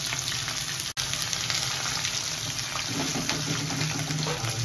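Onions hit hot oil in a pan after the spices are tempered for a chicken dish, a close, steady sizzling hiss with a brief dropout near the start and soft stirring clatter later.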